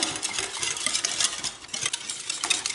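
Batter being stirred steadily in a bowl while a glass of oil is poured in, giving a continuous scraping, swishing texture with small clinks, close and fairly loud, no talk.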